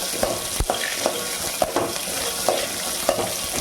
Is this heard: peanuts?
yes